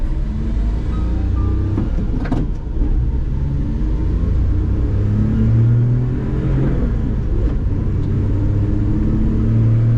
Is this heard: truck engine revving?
yes